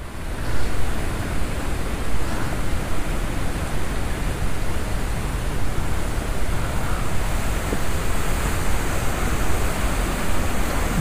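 Rajpuri Waterfalls in Jashpur, swollen with monsoon water, give a steady, dense, powerful roar of falling water that stays loud and unbroken throughout, with no voices.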